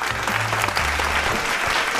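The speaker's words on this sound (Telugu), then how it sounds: "ఒకసారి గట్టిగా క్లాప్స్." An audience applauds loudly and steadily, with dense continuous clapping that fills the whole moment.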